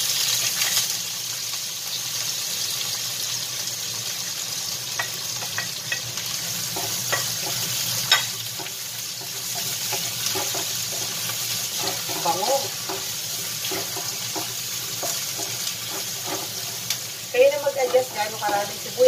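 Garlic, ginger and onion sauté in a hot pan with a steady, close sizzle and hiss, joined by scraping stirs and clinks of a spatula that grow busier toward the end, with no talking.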